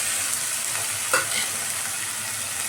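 Onion fries with ginger-garlic paste and ground spices in a pan, a steady close sizzle with one brief scrape of stirring.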